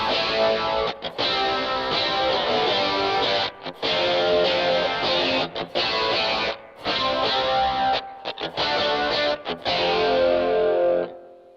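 Electric guitar on the bridge pickup played through a Rockman on its edge overdrive setting, bright compressed distortion with chorus shimmer, chords and phrases ringing loud with brief gaps, no talk.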